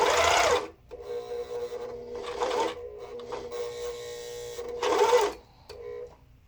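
A Lumina Dahlia coverstitch machine stitches fabric in three short, loud runs of rapid mechanical whirring, separated by quieter pauses with faint handling noise.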